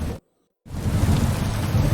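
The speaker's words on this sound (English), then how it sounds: "I really don't like the rain in this. It's just incredibly loud." Heavy rain pours steadily in the Kingdom Come Deliverance 2 video game, loud and dense, with a rumble of thunder beneath. It cuts off in a brief silence before the downpour resumes.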